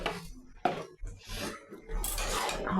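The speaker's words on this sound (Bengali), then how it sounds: "সামান্য একটু অল্প করে একটু চিনি, জাস্ট একটুখানি হাফ চামচ দিলাম।" A spoon clinks and scrapes against a pan while half a spoonful of sugar goes into a bottle gourd curry, with several close metallic taps and rattles and no talking.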